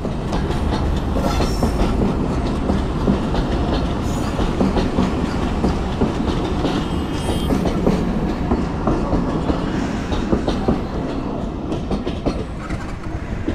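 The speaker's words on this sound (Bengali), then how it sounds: "ট্রেনটা কিন্তু খুব ছোট, মানে লোকাল ট্রেন মনে হয়, এই জন্য খুব ছোট, খুব দ্রুত চলে যাবে" Loud, close small local train passing, with rhythmic clickety-clack of wheels over rail joints and a continuous heavy rumble throughout.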